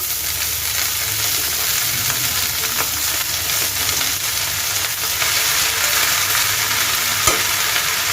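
Red amaranth greens frying in a hot pan while being stirred, a loud, even sizzle throughout with soft scraping and a sharp clink near the end.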